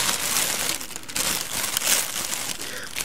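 Crinkling, crackling plastic packaging as a Tetsudo Collection Toyama Light Rail TLR0605 model train is unwrapped, with close, continuous rustling and brief tearing textures throughout.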